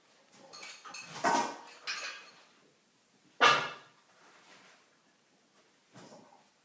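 A container is handled for mixing kimchi, with a few clattering knocks and scrapes of kitchenware and one sharper clunk midway, close and fairly quiet, with no talk.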